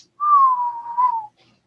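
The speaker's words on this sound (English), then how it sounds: "Nice whistle." A person whistles one clear, loud, sustained note that glides slightly downward for about a second, alone and close.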